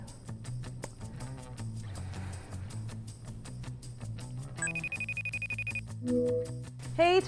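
A telephone ringing during a call attempt: a rapid electronic ring pulses for about a second over a busy musical bed, followed by a steady high tone and a brief electronic chime.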